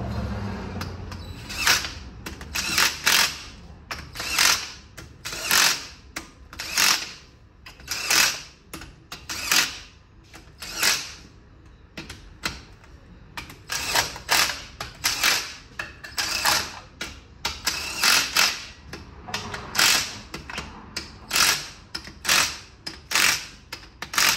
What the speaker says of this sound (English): So we're going to torque this down to 8 foot-pounds.